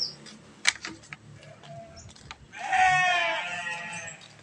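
A fat-tailed sheep bleats for feed while rice straw is sprayed for it. Soft clicks and shuffling come first, then one long, loud, wavering bleat rings out up close.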